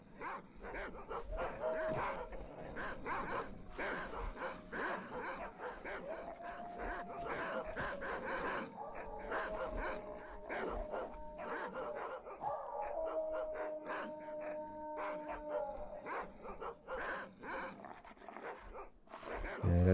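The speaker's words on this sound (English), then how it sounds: "Yeah, that's still all the dogs, I think." A pack of dogs in the STALKER game barks and howls steadily for the whole stretch, with layered wavering howls over dense, frantic barking that stays close and loud.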